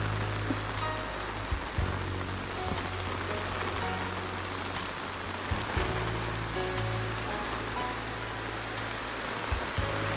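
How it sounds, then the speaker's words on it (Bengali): Heavy rain pours beside the Ganges riverbank, a dense, steady hiss of drops striking surfaces close by, with a low rumbling hum beneath it and no voices. "ফুল বৃষ্টি হচ্ছে।"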